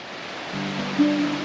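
A waterfall on Mt Adams gives a steady broadband rush, moderately loud, with a faint tonal hum rising partway through this brief moment.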